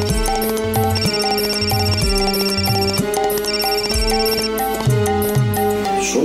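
A phone ringtone plays as a loud, repeating melodic electronic tune with a steady rhythm, and no speech is heard over it.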